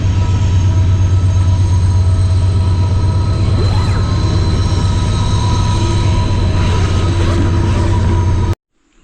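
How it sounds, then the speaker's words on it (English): Train rolling past a riverside campsite on the Tug River, a loud steady low rumble with wheel squeal and clatter overhead, close by and uninterrupted until it cuts off near the end. "as I was saying before I was rudely interrupted by that train"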